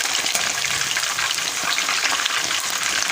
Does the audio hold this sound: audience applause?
no